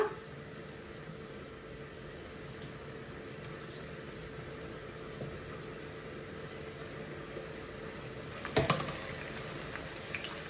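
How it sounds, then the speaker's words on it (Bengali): Turmeric-coated koi fish fry in hot oil, giving a soft, steady sizzling hiss that continues throughout, with a brief, sharper burst of crackling near the end. "একটু গরম হয়ে গেলে পরে আমি মাছগুলো দিলাইম। হলুদ দিয়ে মাখিয়ে রাখা মাছগুলা"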